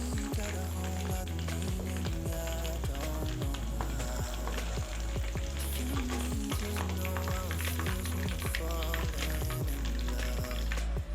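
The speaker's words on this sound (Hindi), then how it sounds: "चिकन दाबू हमारा फ्राई हो चुका है" Chicken daabo pieces frying in hot oil, a loud, continuous sizzle with crackling and bubbling that holds steady throughout, no voices.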